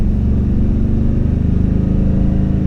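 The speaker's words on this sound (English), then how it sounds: "exhaust." A Toyota TRD Pro exhaust rumbles loud and close, its deep engine note pulsing in a steady, throaty rhythm through a short rev with no talking.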